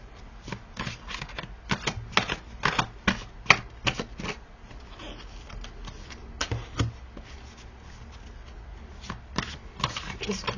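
Tarot cards are riffled and shuffled in sharp bursts of snapping, flicking card noise, close by and repeated over several seconds, with softer handling between the bursts.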